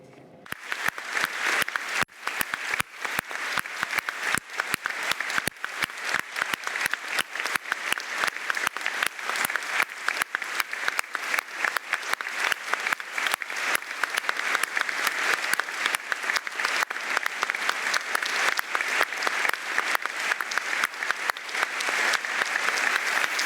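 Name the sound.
applause from an audience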